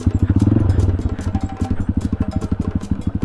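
A scooter engine putters on a rocky off-road trail to Mount Lawad Adventure Park, a close, rapid rhythmic thumping beat with some clatter.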